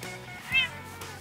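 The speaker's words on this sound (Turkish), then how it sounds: "Bu benim kedi." A single short meow from a neighbourhood street cat, fairly close and clear over a quiet indoor background.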